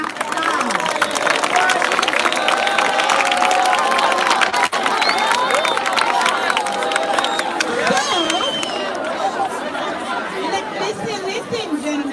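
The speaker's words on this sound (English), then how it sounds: "Give a round of applause for the Secretary General of the Washington," A crowd at a school's 120th anniversary celebration applauds for an alumni chapter's Secretary General, the clapping blending with loud chatter, cheering and music-like tones, busy and continuous throughout.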